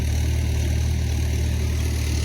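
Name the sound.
tractor engine working muddy rice field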